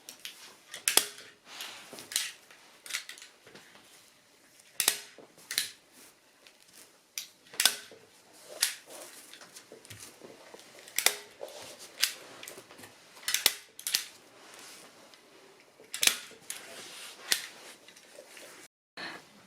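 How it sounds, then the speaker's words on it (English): A heavy duty staple gun fires staples through thin foam onto a tyre, giving sharp, separate snapping clacks at an irregular pace of about one every second or two, close and fairly loud against a quiet room. "here I am attaching a very thin layer of foam on the tire with the help of a heavy duty staple gun"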